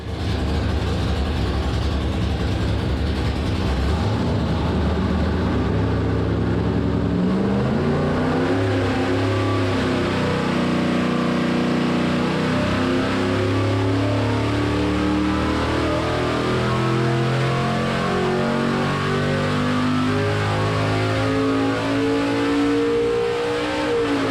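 Dart 400 small block Chevy V8 on an engine dyno, roaring loud and continuous through a long pull, with the pitch climbing steadily as it revs up under load, no voices over it.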